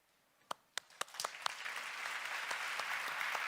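Audience applause at a circular economy conference's grand opening: a few sharp isolated claps at first, quickly swelling into steady, fairly faint crowd clapping that continues to the end.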